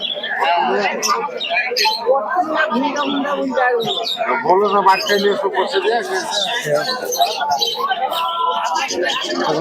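Pigeons coo and birds chatter throughout, tangled with a busy crowd's voices at the Beldanga pigeon market.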